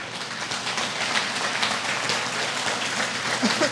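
Lecture attendees at a Buddhist temple summer class applaud in a continuous, even patter of many hands, steady and fairly close across the whole short stretch.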